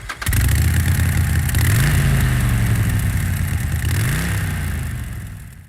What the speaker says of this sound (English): Motorcycle revving sounds for a Harley-Davidson podcast